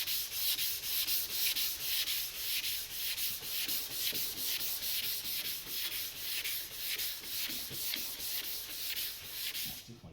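Steady rhythmic hand sanding strokes rub across a freshly painted, still-drying body panel on a 1924 Dodge, each pass a close, loud scratchy swish repeating about twice a second with no talking.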